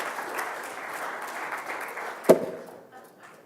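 An audience at the GHD 19 esports event gives Terry a round of applause: steady, moderately loud clapping that rises to a sharp thump midway, then thins out and fades.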